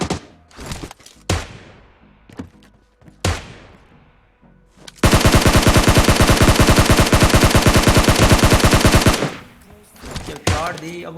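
Sustained automatic gunfire in PUBG solo ranked play, a rapid even burst of shots lasting about four seconds, preceded by several separate loud single shots and booms.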